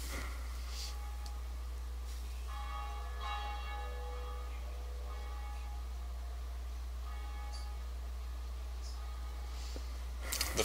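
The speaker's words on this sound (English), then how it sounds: "And we'll ring this bell." The Bell of Awakening being rung in Dark Souls, a deep resonant bell tolling a few times with long ringing tails over a constant low hum, fairly faint and distant-sounding.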